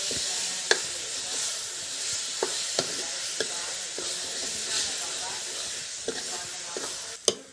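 Potatoes fry in a pan while being stirred for chole bhature, a continuous hissing sizzle punctuated by sharp, irregular utensil scrapes and clinks against the pan, growing busier at the end.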